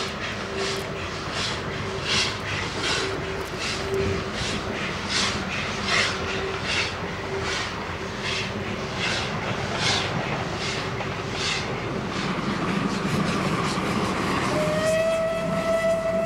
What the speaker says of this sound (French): Les chemins de fer tchécoslovaques ont largement utilisé les locomotives de type 241 en tête des trains